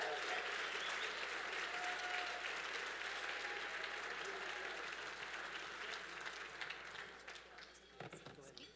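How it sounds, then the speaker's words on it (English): Steady audience applause fills a hall for Rick Roberts, Firefall founder, receiving a Perseverance Award, continuous and even for several seconds before thinning toward the end. "Big round of applause for Rick Roberts."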